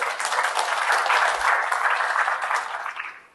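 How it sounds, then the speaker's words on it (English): Audience applause fills a conference hall at a security talk, a dense steady clapping that holds for about three seconds before fading out. "Round of applause for the demo gods."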